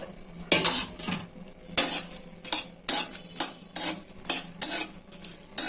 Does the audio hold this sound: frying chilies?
yes